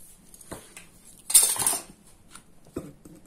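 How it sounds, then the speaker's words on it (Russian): Three spoons and a knife from a Russian army individual ration pack, IRP No. 7, are handled up close, with a few light clinks and one louder clattering burst in the middle. "3 ложки и нож."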